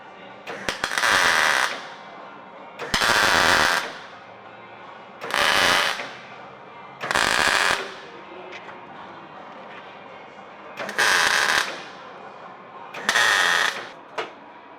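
Motorcycle exhaust header pipes are welded in repeated bursts, each a loud, crackling hiss lasting about a second, with short quiet gaps between, close up.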